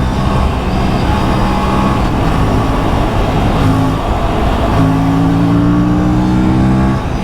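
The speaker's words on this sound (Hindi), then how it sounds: "और इंजन इतना हैवी साउंड करता है ना" An Aprilia RS457 motorcycle engine revving, loud and close, with a steady heavy drone whose pitch climbs in several rising pulls, one after another, with no talk over it.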